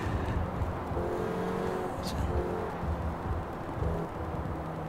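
Engine drone of a car driving through traffic in the Forza Horizon 4 racing game, a steady low rumble with a few passing tonal whines, continuous and fairly close throughout.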